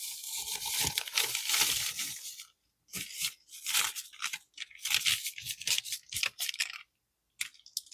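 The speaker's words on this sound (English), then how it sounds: "Now we dump in the brownie mix." Brownie mix being dumped from its cut-open bag, with crinkling plastic and a dry rustling pour in several bursts separated by short pauses, close up, with no talk.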